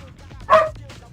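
A single short dog bark or yip, fairly close, over a low background murmur.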